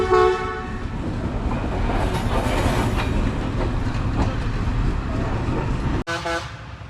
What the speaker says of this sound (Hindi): 47 अब रहमान बाबा express Wazirabad junction railway station पे अप्रोच कर रही है।